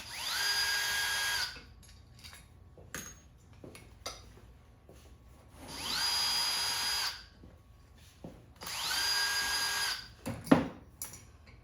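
Power driver whirs in three long, steady bursts, removing screws from the choke housing of a Motorcraft carburetor, with metallic clinks and handling clatter of small parts in the pauses between, close and without speech.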